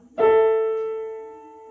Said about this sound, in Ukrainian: послухайте, як звучить квінта.